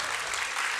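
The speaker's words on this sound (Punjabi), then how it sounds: "ਤਾੜੀ ਬਣਦੀ ਹੈ ਜੀ ਥੋੜਾ ਜਿਹਾ" An audience at the Lyallpur Punjabi Suleekh Mela, a Punjabi literary festival, gives a brief, dense burst of continuous applause from many hands at moderate distance.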